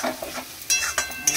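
Spiced curry, cooked with spice water, is being sautéed in a pan, giving a steady sizzle with a few brief scraping stirs, close up and with no talking.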